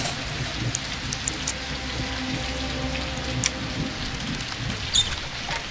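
Steady rain falls in a continuous broadband hiss with scattered drop patters and a brief louder splash near the end, set as an effect in a pen-and-paper audio play, with no talking over it.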